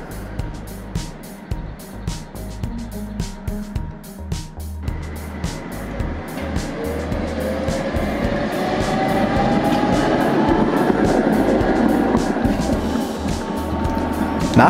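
A Gotha tram rolls along Waltershäuser Straße on a gentle climb, wheels clicking rhythmically over rail joints before the motor hum and rumble swell into a steady, loud ride noise with no talk.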